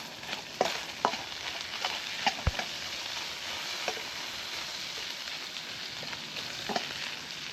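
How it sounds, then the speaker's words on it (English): Sliced ginger and garlic sizzling in hot oil in a wok, a steady crackling fry broken by irregular scraping clinks of a spatula stirring, close and continuous. "I'm just going to fry off my ginger and the garlic"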